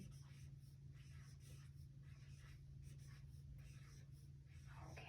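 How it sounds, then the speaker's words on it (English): Pen or marker writing a word on paper close by, a steady scratching stroke sound over a low constant hum, with no talk. "I'm going to write that."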